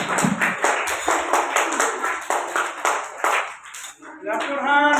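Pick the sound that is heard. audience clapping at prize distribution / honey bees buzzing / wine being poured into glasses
audience clapping at prize distribution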